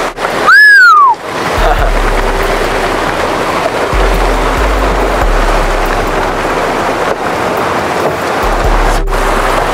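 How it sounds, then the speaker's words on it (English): Pogo 30 cruising sailboat planing at 8 to 9 knots in force 4 flat water, with a steady loud rush of water and wind noise, plus a brief whistling tone near the start. "This is a 30-foot cruising boat, and we're just planing away at 8 to 9 knots in a force 4 flat water"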